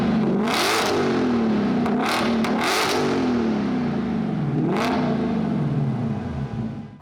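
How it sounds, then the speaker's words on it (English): A 2025 Ford Mustang GTD engine with a titanium exhaust revs several times up close, loud throaty exhaust rising and falling over a steady idle rumble, with no talking. "Take a listen to a couple of revs in this car."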